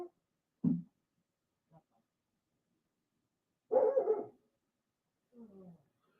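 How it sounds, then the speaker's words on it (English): A dog barks outdoors in a few faint, scattered bursts, distant and separated by long quiet gaps. "There's a dog barking."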